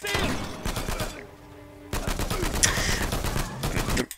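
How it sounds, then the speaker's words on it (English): A shotgun in Uncharted 4 fires in quick succession, loud blasts in a dense rapid volley with a brief lull partway through. Other game effects sit underneath the shots. "the rate of fire of that shotgun to me seems like it could be the Spas, but the rate of fire itself is quite fast"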